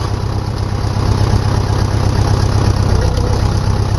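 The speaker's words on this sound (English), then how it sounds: "put the tractor in low range first" A tractor engine idles in low range in a low, steady throb, close and loud, with no talking.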